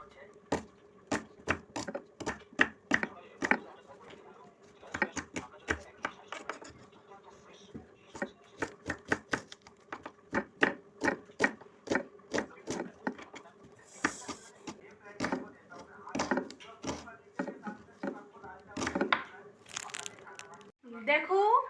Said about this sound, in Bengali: এখন পেঁয়াজটা কেটে নিব, একদম কুচি কুচি করে